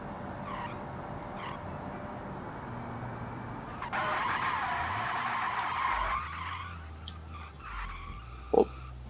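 A custom-built car in BeamNG brakes hard, its tires breaking into a loud, drawn-out screeching skid over a low engine rumble, which fades into a quieter idle and a short final squeal.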